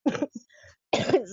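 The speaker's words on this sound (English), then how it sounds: "Post-burn cough, guys." A person coughs after breathwork, giving a few short harsh bursts and then a louder, longer cough. The sound is close and there is no speech.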